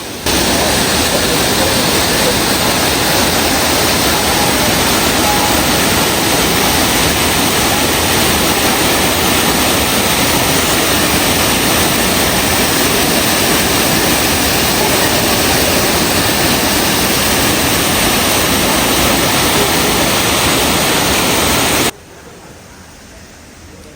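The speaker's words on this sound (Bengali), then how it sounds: "এখানে আর্টিফিশিয়াল ঝর্ণার পানির শব্দ" Water from an artificial fountain at Bird Paradise, Mandai, Singapore pours and splashes in a loud, dense, unbroken rush, cutting off abruptly near the end.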